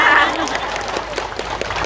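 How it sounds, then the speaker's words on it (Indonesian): A sparse audience claps at a sermon, a short burst of fairly close, moderately loud applause that thins out over about two seconds. "Dikit banget yang tepuk tangan"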